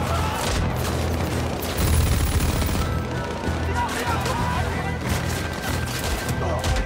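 Gunfire rattles through a battle against Nazi soldiers: dense, repeated loud cracks and bursts crowd together over a rumbling background, with voices mixed underneath.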